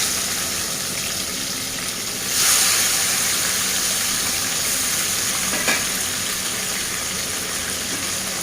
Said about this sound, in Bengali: তেল গরম হয়ে এসেছে, এবার দিয়ে দেবো নুন হলুদ মাখিয়ে রাখা মাছগুলো